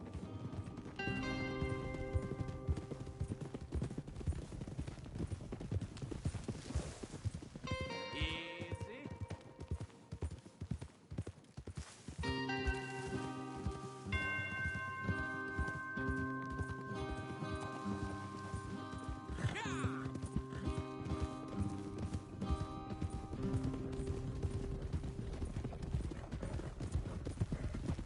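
Steady clip-clop of horse hooves at a quick gait throughout, from the video game Red Dead Redemption II, with a musical score and brief spoken lines over it.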